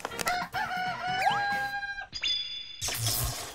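A big rooster crows loudly and close by in a house courtyard, one long strained call with wavering harmonic notes, followed by a sudden broad burst of noise at the end.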